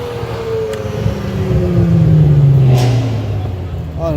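A Cadillac ATS-V with a Borla exhaust revs up, its engine note rising into a loud, throaty climb that peaks and then eases off, recorded close by.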